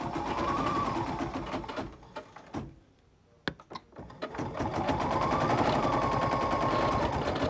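A sewing machine stitches a cherry quilt block with green bobbin and top thread, running in a fast even hum, pausing briefly with a few clicks, then racing again at the same steady pace.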